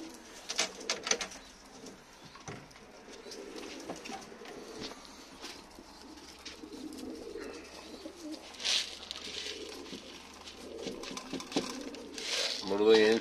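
Pigeons cooing softly in a loft while being fed, with faint scattered clinks and rustles, and a person talking over them.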